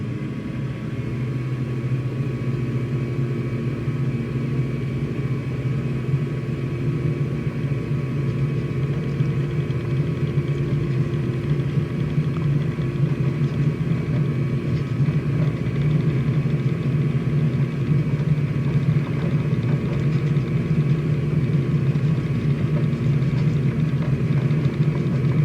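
A simulated light aircraft engine runs at full throttle on the takeoff roll in Microsoft Flight Simulator 2020 on a mountain flight, a steady, loud, droning rumble holding constant throughout with no speech.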